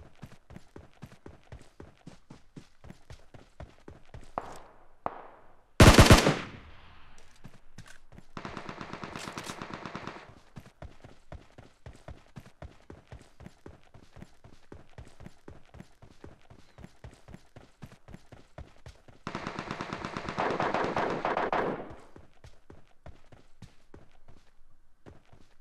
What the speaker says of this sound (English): There's gunshots up there.